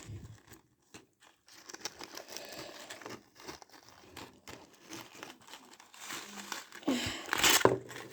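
Crinkly plastic packaging around an old Littlest Pet Shop toy is pulled and torn open in uneven bursts of crackling that grow louder near the end, with faint voice sounds in between.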